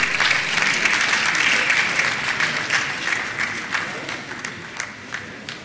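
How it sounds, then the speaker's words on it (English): A large audience at a university convocation lecture claps steadily, dense and sustained applause that gradually thins toward the end. "let's give him a round of applause"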